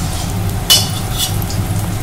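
Bottle gourd koftas fry in a pan with a steady, close sizzling hiss, broken by a couple of brief scrapes or clinks from a spatula.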